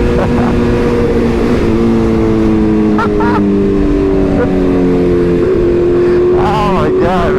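A motorcycle engine drones loudly and steadily while riding, shaking with heavy vibration and holding a constant pitch that rises slightly, with a rider's voice talking over the engine noise.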